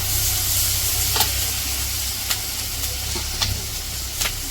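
Jute leaves fry with onion and green chili in a pan, a steady close hiss and sizzle broken by a few sharp stirring scrapes, with no talking.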